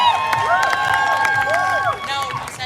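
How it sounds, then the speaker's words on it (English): Crowd at the Dublin Pride Village cheering and clapping, with shrill rising and falling whistles and shouts cutting over a lively bed of applause, loud and close. "give a huge round of applause for the brilliant team that brought this to fruition"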